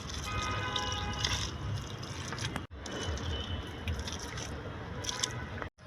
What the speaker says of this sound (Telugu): కొన్ని వాటర్ కూడా వేసుకోవాలండి.